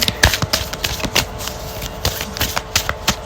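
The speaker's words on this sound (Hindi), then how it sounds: "ओके, कार्ड्स गिर गए हैं, दोबारा शफल कर लेते हैं हम।" Tarot cards being shuffled by hand, a quick run of dry papery riffles and soft slaps in close, uneven bursts with no talking.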